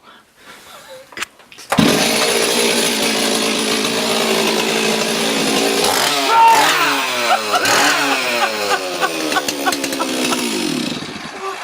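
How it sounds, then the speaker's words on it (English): A chainsaw engine starts with a sharp pull after quiet rustling, then runs loud and close, revving up and down repeatedly with rising and falling whines. "Down here is my trusty old friend, Chainsaw."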